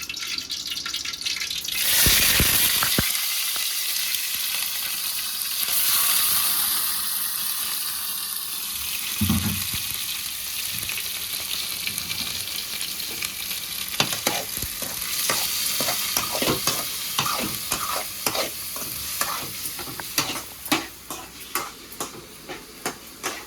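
Mutton pieces frying in a pan with a little ghee, a steady sizzle with a loud burst as the meat goes in, then stirring and scraping clatter building toward the end.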